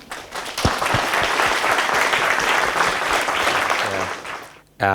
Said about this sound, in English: I think we should give Fadel a big applause.